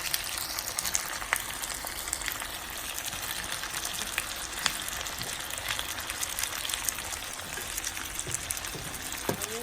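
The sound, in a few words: onions frying in a pan until golden brown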